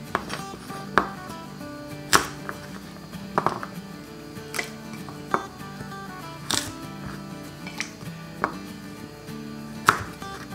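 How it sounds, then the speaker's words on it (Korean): A knife splits burdock root on a cutting board with sharp, separate taps spaced a second or two apart. A quiet musical bed plays underneath. "반을 갈라주시면 돼요"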